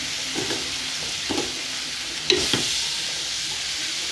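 Shredded cabbage fries in hot oil for a Sri Lankan coconut-milk curry, giving a continuous soft sizzle with a few spaced scraping stirs of the pan.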